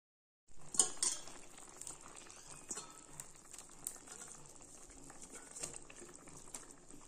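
Fish curry gravy with onion flower stalks bubbling at a steady boil in a pot, a soft continuous simmer with a few light clinks of utensils near the start.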